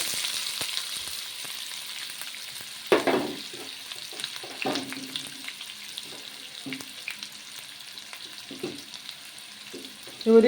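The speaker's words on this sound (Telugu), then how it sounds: "ఇప్పుడు ఉల్లిగడ్డ వేసుకుందామండి" Onions tossed into hot oil in a pan for a bottle gourd curry, giving a steady low sizzle broken by occasional stirring scrapes and a louder burst near the start.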